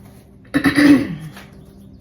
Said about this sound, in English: As I was clearing my throat